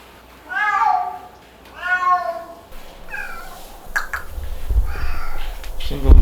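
A cat meows repeatedly after a two-year bath, several drawn-out close cries with pauses between them, followed by rustling and handling noises.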